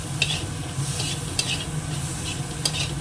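Potatoes fry in a little oil with a steady, moderate sizzle and three sharp clicks of a utensil against the pan, heard up close with no speech.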